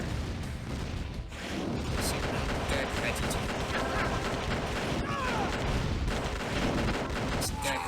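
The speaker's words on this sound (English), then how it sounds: "I hear grenades exploding and I don't know why." Grenades explode in a C&C Red Alert mod battle amid constant gunfire, with a heavy wall of booms and crackling shots throughout, a brief lull near the start, and a voice talking over it.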